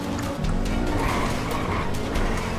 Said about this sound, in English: just listen to the sound of the engine